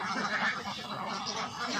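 Khaki Campbell ducks on a farm quack softly in a brief, muffled cluster of nasal calls, faint and somewhat distant.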